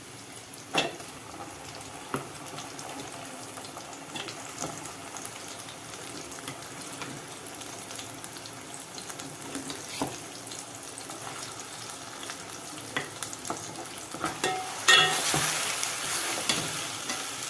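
Ground masala for a mutton curry fries steadily in a pan, a constant close crackle and sizzle with scattered pops and occasional stirring clinks, swelling into a louder hiss near the end; no voices.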